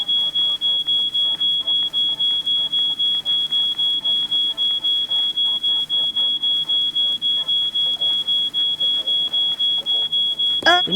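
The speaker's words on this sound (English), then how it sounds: "We need to do something about that alarm." Smoke alarm in the game She Could Fly beeping over burnt toast, a rapid continuous train of sharp high-pitched pulses lasting throughout, with faint voices and small thuds underneath.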